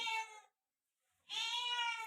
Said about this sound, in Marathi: आमच्या मांजराचं काय चाललंय